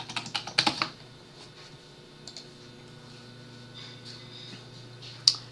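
A password is typed on a Mac keyboard in a quick burst of close key clicks, followed by scattered faint taps and one sharp click near the end over a quiet background hum.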